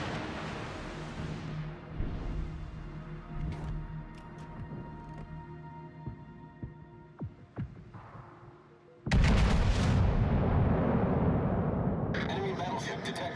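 Battleship guns firing in World of Warships Legends with a Tier V Tennessee, several sharp booms and rumbling blasts, ending in one big loud sustained roar of fire, with no talking.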